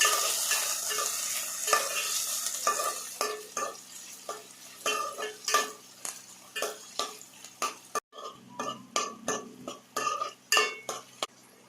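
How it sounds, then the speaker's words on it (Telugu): Sliced onion and four or five green chilies, with dried red chilies, stirred in a hot frying pan; steady sizzle with repeated scraping strokes of a spoon against the pan, growing more rhythmic and distinct toward the end. "ఇలా సన్నగా కట్ చేసుకున్న ఆనియన్, 4 కానీ 5 పచ్చిమిర్చి వేసిన తర్వాత ఇలాగ మొత్తం బాగా కలపాలి."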